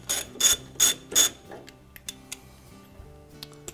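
Four sharp ratchet clicks come in quick succession as a nylock retainer nut on a washer's drive pulley is snapped loose, followed by softer faint clicks and a quiet mechanical tail.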